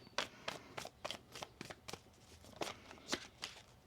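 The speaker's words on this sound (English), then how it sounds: "One more shuffle here." Tarot cards shuffled by hand in a steady series of crisp, snappy riffles, about a dozen quick slaps at a regular pace, close but quiet.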